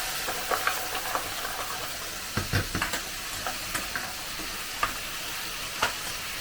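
A mussel oil pasta pan sizzles and spits steadily after boiling pasta water goes in with salt and pepper, crackling close by with scattered pops and stirring.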